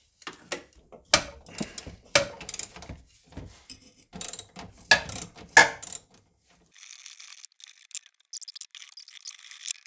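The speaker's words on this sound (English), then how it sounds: "So let's try and get this bolt out." Close-up ratcheting clicks in short bursts, a wrench cranked back and forth loosening a bolt on a BMW E31 850i, with pauses and small metallic rattles between strokes.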